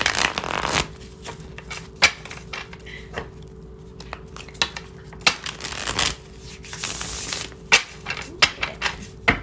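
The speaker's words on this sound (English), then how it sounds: "Little ASMR shuffling." Tarot cards being shuffled close up, with soft riffling bursts and sharp taps and snaps in an irregular rhythm, no voices.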